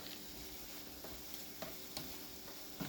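Minced meat sizzles steadily in a hot pan while a utensil stirs it, with soft scraping taps recurring every second or so over the continuous frying hiss.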